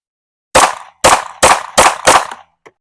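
Five rapid pistol shots from a Smith & Wesson Spec Series V steel-frame handgun, each a loud, sharp crack with a short decaying tail, fired back to back at a near-even pace.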